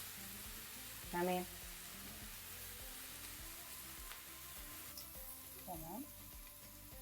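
Steak sizzling in a pan, a constant dense hiss of frying fat running throughout, with a person speaking briefly over it.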